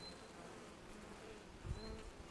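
Honeybees buzz steadily inside an open hive during a colony inspection, a continuous low insect hum filling the whole clip, fairly faint, with a slight swell near the end.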